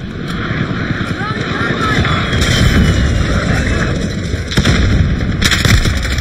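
Explosions and gunfire from Call of Duty Warzone, including RPG blasts, rumble steadily through a dense wash of game noise, with sharper bursts near the end. A player talks over the action.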